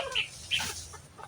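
Young chicks a little over a week old, just out of the incubator, give a few high, close peeps in quick succession, followed by fainter chirps.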